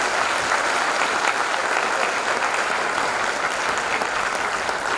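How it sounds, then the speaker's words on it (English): Steady, dense applause from an audience at a school English Week celebration, continuous and fairly loud across the whole stretch with no voices over it. "I think we need to clap a little bit more."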